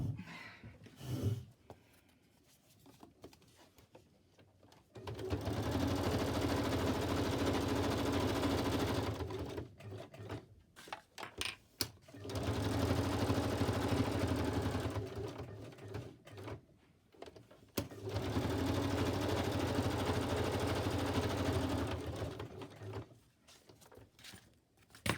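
Sewing machine stitching around paper ephemera for a journal, three separate runs of steady rapid whirring, each lasting several seconds, with quiet pauses and handling noises between them.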